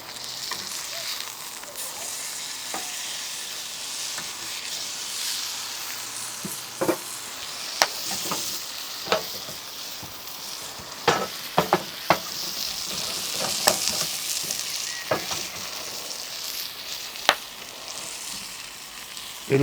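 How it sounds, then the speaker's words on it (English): Steak sears on a shovel inside a steam locomotive firebox with coal burning, a loud continuous sizzle with sharp spits and crackles scattered through it and no talk. "It'll take no more than sort of 3 minutes aside to cook this steak to medium rare"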